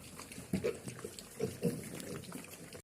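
Piglets chewing and crunching feed pellets, with soft snuffles and small grunts in irregular bursts, fairly close, in a pigsty.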